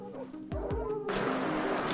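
Hunting dogs out on a wild boar hunt give a few sharp barks and yips close by, then a burst of louder, rough outdoor noise takes over.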